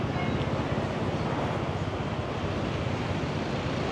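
Wind gusts steadily along a street in Da Nang, a loud continuous roar of buffeting air against the microphone with no voices.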